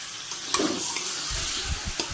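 Meat hitting a hot pan of fried onion, garlic and ginger, giving a loud, dense hissing sizzle with a few low thumps and scrapes of stirring, close up and with no talking.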